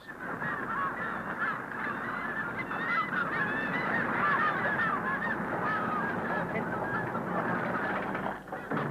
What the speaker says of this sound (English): the gulls and the gannets get their pickings